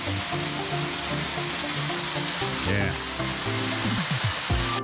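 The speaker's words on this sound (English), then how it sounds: "this is the actual chain mill fall right here this is another waterfall" Chain Mill Falls waterfall near Hanover, Indiana, a steady loud broadband rush of falling water filling the scene up close, with a brief spoken word from a man near the camera over it.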